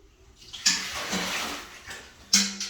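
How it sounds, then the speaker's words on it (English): Water from a bucket poured down a drain while milking machine equipment is cleaned, two short splashing gushes with a quieter trickle between them, close and with no talking. "we just pour the water down the drain and pour the water down the drain from the bucket"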